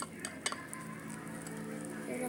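Liquid soap being stirred into slime in a bowl gives a few soft clinks and wet scraping sounds, faint and brief.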